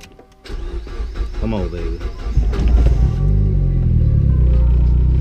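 A turbocharged Mazda Miata cranks and fires up, its engine settling into a loud, steady idle with some revving. Someone speaks briefly over the start.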